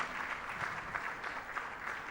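An audience claps steadily for someone speaker at an emotional well-being talk by Dr. Chika Aniereto, with a dense, even wash of applause and no voices over it.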